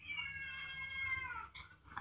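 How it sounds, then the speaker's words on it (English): A cat meows in one long drawn-out, wavering call lasting over a second, close and clear, with a faint shorter sound at the end and no talking. "I got a cat over there."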